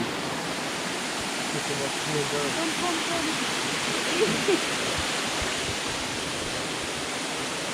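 A waterfall in Portland, Jamaica, gives a steady, broad rushing roar of falling water, constant from start to finish, with a few brief spoken words over it.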